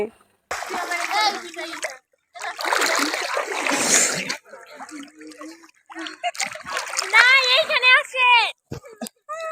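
Girls bathe in the Padma river, with intermittent water splashes and splatters close by, heard among lively talk and children's voices.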